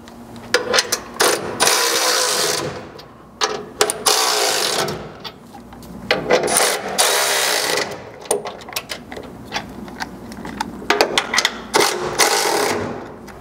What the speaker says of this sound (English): you can start by snugging these up to pull the mount tight to the frame